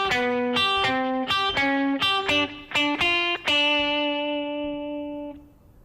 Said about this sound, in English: And our turnaround this time sounds like this.